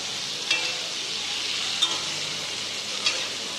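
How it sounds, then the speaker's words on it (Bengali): Pieces of raw banana and potato fry over a medium gas flame with salt and turmeric, giving a steady close sizzle with a few light spoon scrapes against the pan and no talking. "এবার সমস্ত কিছু আমি আবার একসঙ্গে ভালো করে ভেজে নিচ্ছি।"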